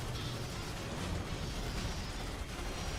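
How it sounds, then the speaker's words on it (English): Grenade blasts in a real-time strategy battle, a dense run of booming bursts under constant loud combat noise with no clear gaps. "Throwing some grenades."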